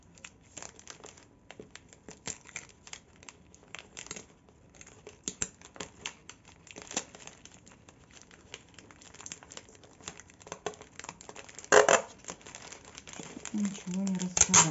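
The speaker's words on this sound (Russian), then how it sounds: "Буду сразу приклеивать скотчем." Adhesive tape pulled and pressed on while a paper coffee cup is assembled for a marshmallow bouquet craft, with close crinkling, rustling and sharp tearing bursts among steady handling noise and some speech.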